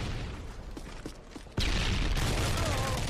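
A frag grenade in a shooter video game goes off with a sudden loud blast partway through, giving way to a sustained roar of rumble and debris after quieter gameplay sounds with faint ticks.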